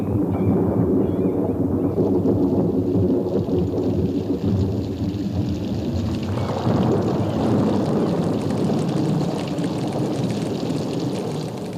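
A growing storm over a chimpanzee forest habitat: dense wind and rain roar with low rumbling, loud and continuous, swelling slightly midway and easing near the end, with no voices.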